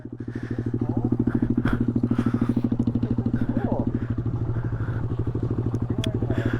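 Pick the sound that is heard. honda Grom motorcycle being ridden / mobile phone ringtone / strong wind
honda Grom motorcycle being ridden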